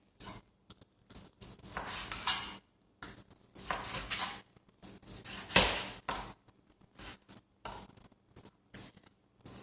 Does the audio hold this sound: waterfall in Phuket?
no